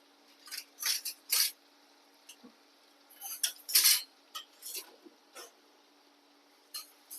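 A metal ladle stirs and scrapes an onion masala for ivy gourd (tindora) fry in a pan, making sharp, intermittent clinks and scrapes in irregular bursts, close and fairly quiet, with no talking.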